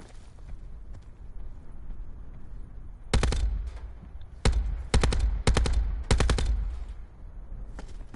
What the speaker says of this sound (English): I don't know where they're shooting from.